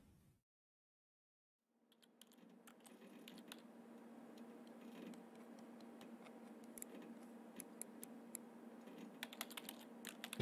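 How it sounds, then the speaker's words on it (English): Typing on a computer keyboard in a game scene: a steady run of light, close key clicks and taps that starts after about two seconds of silence, over a low background hum, with no talking. "That's a keyboard."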